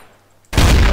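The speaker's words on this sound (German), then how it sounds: "Wer schießt denn hier eigentlich?" Gunfire erupts in a Trouble in Terrorist Town video game match, an abrupt loud burst of rapid shots after a near-silent moment, sustained and close.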